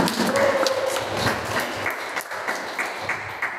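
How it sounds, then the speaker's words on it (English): Scattered clapping from a small audience at a stand-up comedy competition final, a loose burst of applause that thins into sparse individual claps. "give applause to all the participants here"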